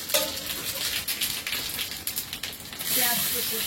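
Spices tempering in hot oil after fish frying in a Sundarbans village kitchen, with bursts of loud close sizzling and crackling that swells into a steady hiss near the end.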